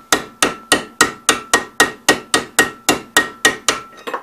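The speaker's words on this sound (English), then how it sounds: "I did have to hammer that off the end" About fourteen sharp metallic hammer blows knocking a bearing off a shaft on a 1969 Cub Cadet 126 drive clutch, at a steady, brisk rhythm, loud and close, with no talking.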